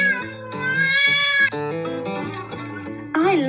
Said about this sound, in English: What animal makes that noise? It's a cat.